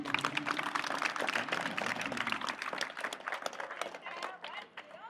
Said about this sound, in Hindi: तो मेरे प्यारे बच्चों के लिए एक बार जोरदार तालियां